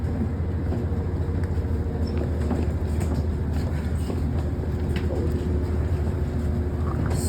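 VRE commuter train idling at L'Enfant Plaza station, a steady low engine rumble and hum filling the platform with constant broadband noise and faint clatter throughout.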